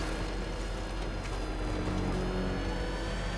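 The Batmobile's engine in Batman: Arkham Knight rumbles with a deep, continuous drone, rising a little as it revs and sustained at close range with no speech over it.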